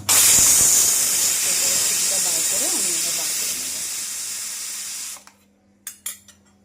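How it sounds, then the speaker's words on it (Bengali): A pressure cooker whistle blasts steam while cooking a jackfruit biryani, a loud, continuous hiss lasting about five seconds before cutting off, followed by a few faint clicks. "প্রেশার আটকে দেবো জাস্ট একটা সিটি দেবো"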